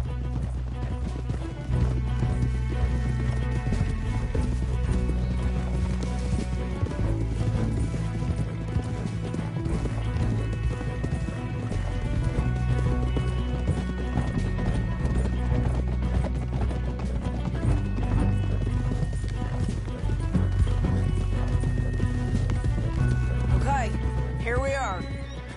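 Horse hooves clip-clop steadily through a video game, with occasional whinnies, under almost continuous talking from game characters and a player.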